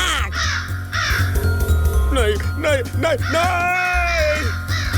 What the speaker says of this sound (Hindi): ये कौवा कैसे बन गया?